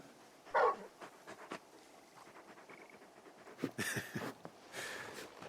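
A big dog in Final Fantasy XVI pants in uneven bursts of breathy huffs, with a few louder gusts of breath standing out against a quiet background.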